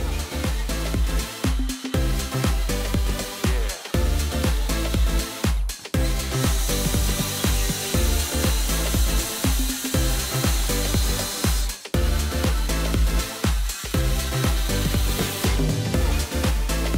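Power saw cutting through a deck board, a loud continuous grinding buzz lasting the whole stretch with brief dips as the blade bites, close and dominant.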